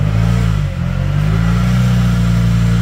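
A Hyundai Tucson engine with a defective turbo revs steadily and loudly at close range, a sustained droning roar that briefly dips just under a second in before climbing back and holding for the rest.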